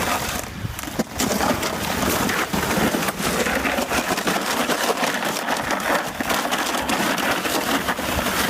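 Dog padding across crusty, icy snow after a night of snow and rain, a continuous crunchy crackling of paws breaking the crust, close and steady throughout.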